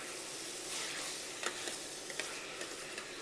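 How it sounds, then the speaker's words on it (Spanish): Chopped plum tomatoes cooking with seafood in a pan give a soft steady sizzle, with a few light utensil ticks and stirs near the end, no talking. "le vamos a agregar 3 tomates perita o tomate roma, partiditos. Los vamos cocinando."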